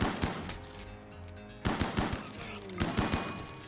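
Bursts of rapid gunfire from a video game, three separate volleys a second or so apart, loud and close, with game sounds and a voice under them.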